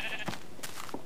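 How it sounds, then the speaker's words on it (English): A Minecraft sheep bleats in the video game, with two or three short, thin bleats sitting low under a steady wash of background game noise. "A bold sheep running around?"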